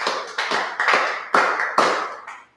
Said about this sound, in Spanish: Te invito a que le des un suave aplauso al Espíritu de Dios.